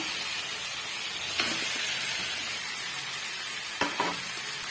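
Fish fries in hot oil with masala and tomato, giving an even, steady sizzle close by, broken only by a couple of faint clinks from the pan.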